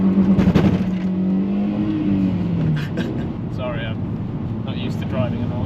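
A car's engine hums and rises as it pulls carefully out of a junction, a moderate close drone running under a voice speaking throughout.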